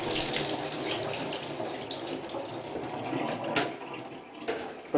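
Running tap water pours steadily into a brewing tub being filled for bleach sanitizing, a continuous broadband splashing rush heard close and alone, with a few brief knocks near the end.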